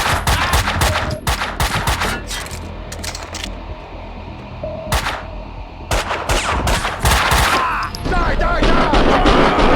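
Bursts of gunfire crack out in the Max Payne 2 video game, rapid volleys broken by short pauses, loud and close, with some game sounds in between.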